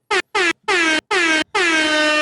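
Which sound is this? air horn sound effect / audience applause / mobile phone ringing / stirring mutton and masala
air horn sound effect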